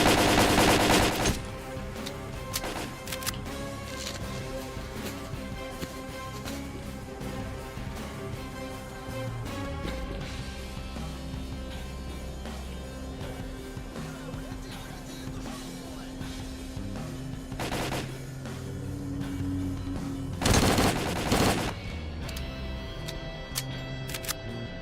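Bursts of gunfire from S.T.A.L.K.E.R.: Call of Pripyat keep crackling over a dense, busy game mix, with repeated shots and sharper, louder volleys toward the end.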